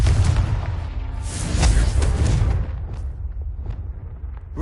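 A Confringo explosive spell blast from the Hogwarts Legacy game, a loud booming burst with a whooshing rush that swells midway and then fades into scattered smaller impacts.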